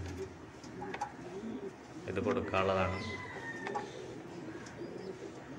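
Pigeons being offered for sale in Kerala coo softly near the microphone. Someone talks over them throughout, and a brief louder burst of sound rises in the middle.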